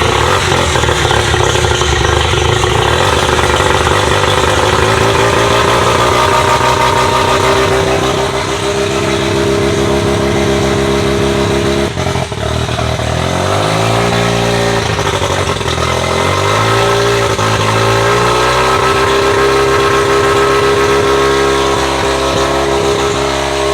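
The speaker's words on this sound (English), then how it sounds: "So we're just gonna let it idle for a while, let it get to operating temp" Car engine running at idle just after starting, loud and close, a steady continuous drone whose pitch dips and wavers partway through, with no talk over it.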